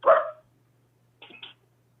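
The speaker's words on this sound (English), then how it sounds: "Wants to bark at somebody." A dog gives a short, loud bark, then after a pause a second, softer burst of yips and barks, with a faint steady hum underneath in an indoor room.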